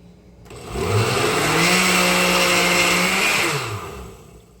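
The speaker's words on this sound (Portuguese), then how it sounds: "aqui eu vou bater novamente esses ingredientes" A blender whirs loudly while mixing passion fruit cheesecake ingredients, the motor ramping up, holding a steady high-pitched whine for about three seconds, then winding down.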